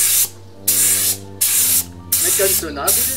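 A spray gun in a workshop applies paint along the edges in four long hissing bursts separated by short pauses, loud and close, while a person speaks briefly near the end.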